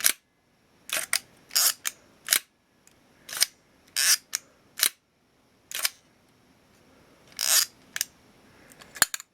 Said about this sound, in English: let's operate the shutter once more.